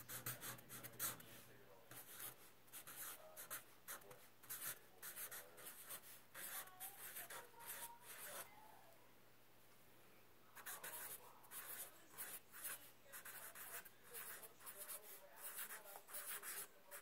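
A pencil or pen writes on paper while a line of a poem is changed, close scratchy strokes in bursts with a short pause midway, quiet and alone.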